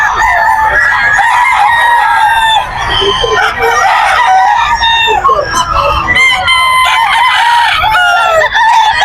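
Several roosters crow loudly and repeatedly at the Bocaue pet market, their calls overlapping with clucking from other fowl, while faint voices sit in the background.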